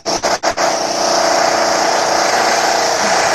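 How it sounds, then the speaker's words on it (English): Construction site noise with a loud, steady motorized roar, like a power tool or small engine, opens with a few short revving bursts, then runs continuously and close without speech. "So this is the sound of a construction"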